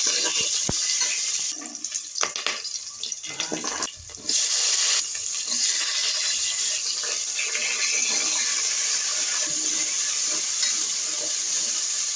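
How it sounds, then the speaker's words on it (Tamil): Tomato, onion and green peas fry in a pan for a chapati kurma, producing a loud, continuous sizzle with stirring clatter during the first few seconds. "தக்காளி, வெங்காயம், பட்டாணி வதங்கிட்டுருக்கு."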